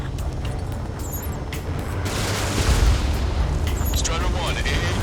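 An AA gun blown up in Ace Combat 7 with a MiG-21bis, a loud rumbling explosion swelling midway over steady jet roar, with radio chatter from a voice over the top.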